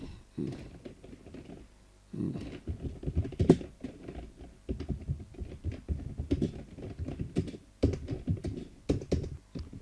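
Computer keyboard typing in bursts of quick, close taps with short pauses between runs, fairly quiet and alone.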